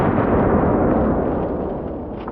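A double-barrel shotgun loaded with buckshot fires both barrels at once at close range, about five yards from the target, producing one loud, heavy blast whose roar decays over a couple of seconds.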